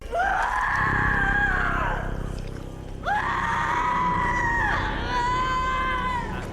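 A woman's long, sustained screams from the 2021 horror film Malignant, loud and drawn out, several wailing cries over a rumbling, reverberant soundtrack.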